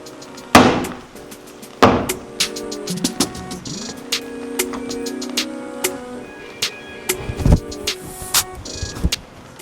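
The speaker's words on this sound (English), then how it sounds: "So you do the hammer and something there?" Sharp hammer blows on a film set, a couple of loud strikes early followed by scattered lighter knocks and clatter, with a sustained tone lingering in the middle.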